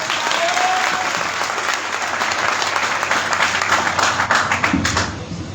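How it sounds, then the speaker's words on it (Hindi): Loud, dense applause from a large crowd at a tribal community gathering in Sardarpur fills the whole stretch without letup, then cuts off abruptly near the end. "जोरदार तालियां भीम सिंह भाई के लिए"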